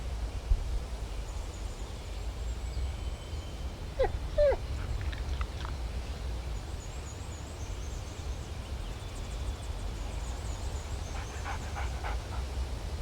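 A dog in the Alan Wake video game pants and gives a few short whimpering yelps over a low ambient rumble, with faint high chirps scattered through the background.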